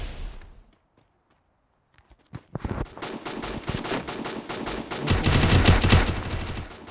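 Gunfire in the Free Fire battle royale mobile game, first a couple of isolated shots after a near-silent pause, then rapid bursts of automatic fire building into dense, loud volleys.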